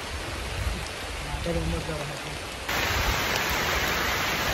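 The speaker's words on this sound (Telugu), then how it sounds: "బయట ఘోరమైన వర్షం పడుతుంది" Heavy rain falling outdoors makes a dense, steady hiss that fills the whole stretch. It grows slightly louder partway through, with a faint voice briefly audible beneath it.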